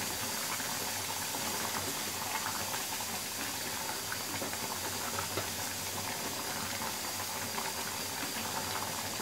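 Mashed tomatoes cooking down in a pan in their own juice for tomato thokku, giving a steady, dense bubbling sizzle and hiss that continues evenly throughout, with no talk.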